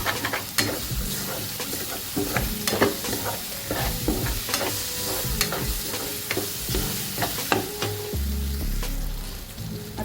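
A spoon stirs and scrapes a sizzling potato mixture with Maggi masala in a pan, sharp, irregular metallic clinks over a soft frying hiss, close and clear, with a low thump near the end.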